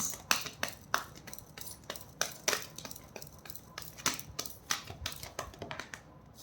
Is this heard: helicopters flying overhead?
no